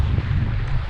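Relentless wind buffeting the microphone while kayak fishing on the side of the Mississippi, a steady low roar without pause through the whole moment.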